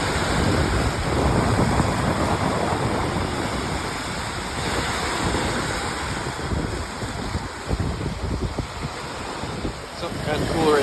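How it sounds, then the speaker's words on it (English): Strong wind buffets the microphone continuously along the Lake Michigan shore, with loud waves surging and crashing on the rocks beneath the steady roar. "It is windy, the waves are way up there"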